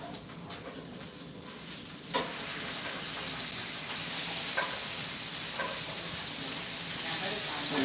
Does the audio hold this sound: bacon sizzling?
yes